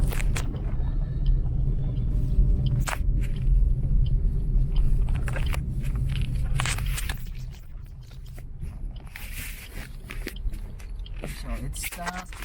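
A car cruises onto the North Reclamation Highway in Cebu City, heard as a steady low road rumble with occasional knocks and scrapes.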